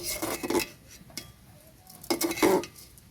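Meat being stirred and sautéed in a pot with a spoon while cooking meat khichuri, giving a few scraping, clinking bursts of stirring separated by quiet gaps, close and moderately loud.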